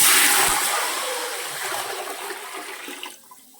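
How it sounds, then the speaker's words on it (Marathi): A full pot of water is poured into hot oil in a cooking pan, making a loud rushing splash that slowly tapers into gurgling and ends abruptly. "ज्या पातेल्यानं आपण सारण मोजलं आहे त्याच पातेल्यानं मी एक पातेलं काठोकाठ पाणी घालत आहे"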